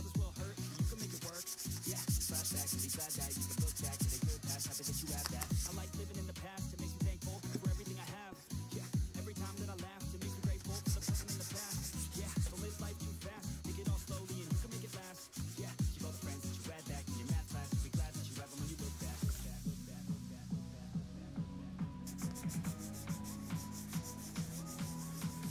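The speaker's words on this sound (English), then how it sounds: "That's not why I'm sanding this one, because that paint's going to get covered with my primer coat." Hand sanding of a Nerf blaster before its primer coat, rhythmic back-and-forth rasping strokes repeated steadily at close range, with brief pauses and a quieter handling stretch near the end.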